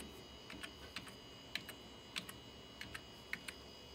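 Keys tapped on an iMac G3 keyboard while entering a web address, a quiet irregular run of light clicks spread across a few seconds with no talking.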